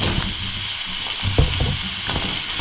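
Curry leaves and green chillies fry in hot oil for gongura chutney, giving a close, continuous sizzle with a few soft stirring knocks.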